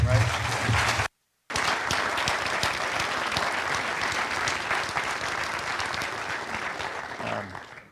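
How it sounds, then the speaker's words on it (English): An audience at a military sergeants major panel applauds a speaker, a dense, steady burst of clapping broken by a brief dropout near the start, with a voice briefly audible before it trails off. "let's give him a round of applause one more time"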